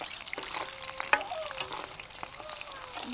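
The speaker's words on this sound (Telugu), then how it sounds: "మంచిగా పచ్చిమిరపకాయలు ఒట్టిమిరపకాయలు జీర జీలకర్ర మంచిగా ఫ్రై అయిన తర్వాత" Green chillies, dried red chillies and cumin seeds fry in hot oil for a tempering, crackling and sizzling close up with stirring scrapes and a sharp tap of the spoon.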